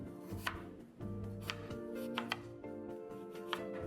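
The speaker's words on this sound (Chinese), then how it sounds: "然后切成条状后再切成丁，沙葛颗粒不建议切得太小" A knife chops 250 g of jicama on a board, first into strips and then into cubes. About seven crisp, evenly spaced cuts sound close by over a low, steady tonal background.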